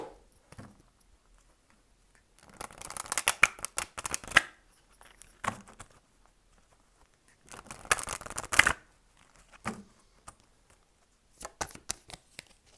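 Oracle cards for a full-moon reading are shuffled by hand in two long bursts of rapid riffling and flicking, with a few short softer shuffles in between, close and alone.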